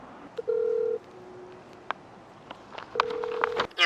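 A telephone call is placed during an eviction visit for an auctioned property: a long electronic dial tone is followed by a pause, then a rapid burst of keypad tones and beeps, heard close and clear over a quiet room.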